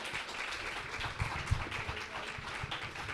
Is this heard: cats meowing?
no